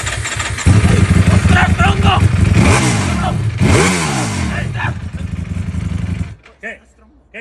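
A new motorcycle starts up and revs hard, its engine rising and falling in loud throaty sweeps for several seconds before cutting off, with excited Spanish voices speaking over it throughout.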